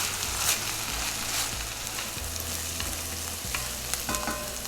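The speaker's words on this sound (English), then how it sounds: "So just keep sauteing the onions until they get nice golden brown." Onions sautéing in a pan for a shrimp masala, a steady close sizzle with scraping stir strokes and low rumbling hum underneath, no talking.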